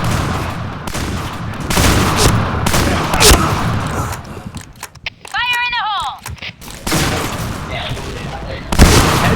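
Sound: gunfire in a shooting video game

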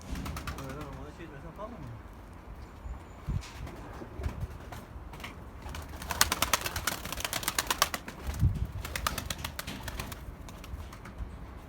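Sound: pigeons

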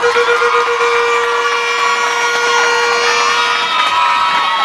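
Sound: crowd applauding and cheering at political rally

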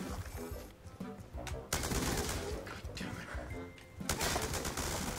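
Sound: gunfire from the video game Call of Duty: Black Ops 2

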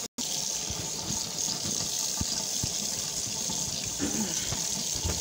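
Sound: water running from a tap

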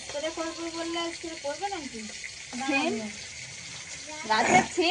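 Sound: home-grown broad beans cooking in a pan

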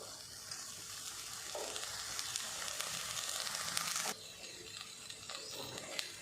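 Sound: curry paste and coconut milk stir-frying in a pot

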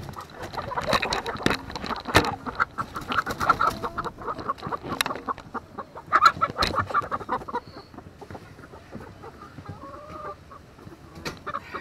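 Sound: chickens clucking

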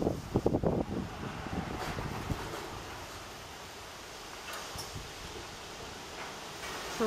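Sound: strong wind blowing through trees

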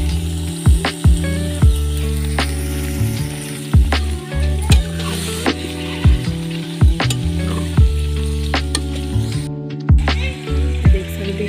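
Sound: chicken and rice frying in a pan

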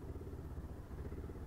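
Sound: motorcycle being maneuvered to park

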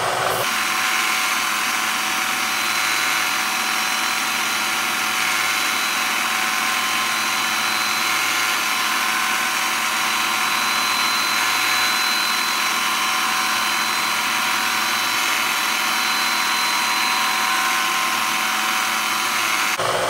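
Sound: drilling a hole

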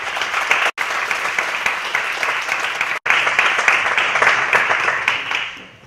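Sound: audience applause at a debate tournament

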